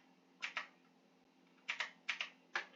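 Typing on a computer keyboard while working with data frames, heard as a few quick clusters of light key clicks in pairs and short bursts, close and fairly quiet with no talk.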